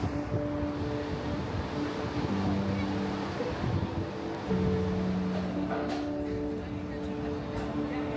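Strong waves breaking on a volcanic beach of dark sand and pebbles at Garachico, Tenerife, a continuous wash of surf mixed with gusty wind noise and a low steady hum.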